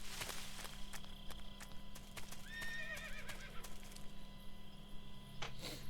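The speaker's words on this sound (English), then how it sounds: "Was that a horse?" A horse whinnies in the video game Metal Gear Solid 3, one rising, wavering neigh in the middle over faint hoof clops and footsteps against a quiet jungle backdrop.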